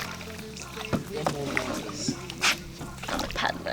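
A canoe paddle dips and pulls through water in irregular splashes and gurgles while people talk nearby.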